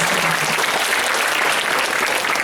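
An audience applauds continuously, a dense wash of many hands clapping at a steady, fairly loud level without pause.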